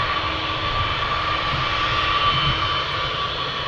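Steady, close jet engine roar from a Boeing 767 at an airport, a continuous broadband rumble with a faint tonal whine holding level throughout, no voices.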